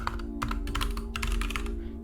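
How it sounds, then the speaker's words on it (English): Loud, fast typing on a computer keyboard while coding a Roblox Studio backpack system, with dense clattering keystrokes in irregular bursts and a steady low hum underneath throughout. "my keyboard's loud"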